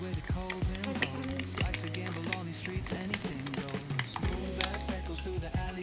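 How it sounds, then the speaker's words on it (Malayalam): Batter-coated eggs for egg bajji deep fry in hot oil, producing steady crackling sizzle with intermittent clinks and stirring sounds from a utensil close by. "ഇനി നമ്മൾ ചെയ്യേണ്ടത് ഇത് എണ്ണയിലിട്ട് ഡീപ്പ് ഫ്രൈ ചെയ്യാം."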